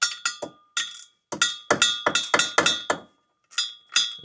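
Ratchet clicking on a stubborn lower bolt of a Land Rover Discovery under MOT repair: sharp metallic bursts in short irregular runs, close and fairly loud, with brief pauses between strokes.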